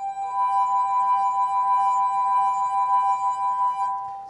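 Singing wine glass rubbed quickly to produce a steady ringing tone with harmonic overtones and a wavering vibrato, sustained and fairly loud for about four seconds before fading slightly at the end.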